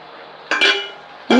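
A spoon scrapes and clinks against a pot while stirring thick arrowroot porridge with jaggery syrup: a soft steady background, then two sharp metallic knocks, the second louder and close.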